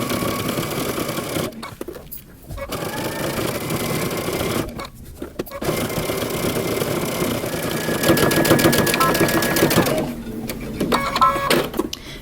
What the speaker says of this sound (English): I'm going to put my needle at the other dot and back stitch, and then continue sewing all the way down your side seam